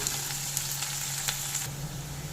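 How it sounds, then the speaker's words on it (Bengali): Chopped ginger, green chilli and garlic stir-frying in a pan while cooking lote fish jhuri, a steady close sizzle with faint scraping stirs throughout. "এখানে আমি আদা কাঁচা লঙ্কা রসুন কুচি করে নিয়েছি সেগুলোও দিয়ে দিলাম নেড়ে একটু ভেজে নেব"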